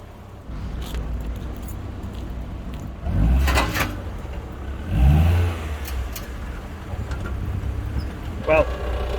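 An old car nicknamed Nigel revs in two strong bursts with an odd exhaust noise, surrounded by quieter idling and people talking nearby.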